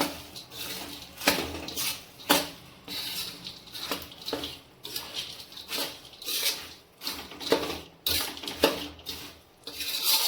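Chopped almonds and cashews are stirred together in a pan for adadiya pak, a winter sweet: rhythmic scraping and clattering strokes repeat about every second, close and fairly loud, with no talking.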